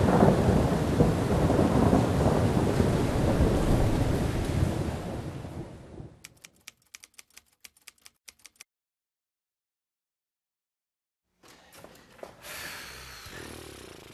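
Heavy rain roars with rumbling thunder in a stage musical, loud and steady, then breaks into crackling bursts and a few seconds of silence before the downpour returns.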